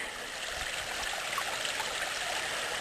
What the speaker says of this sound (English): on the left side here is the one creek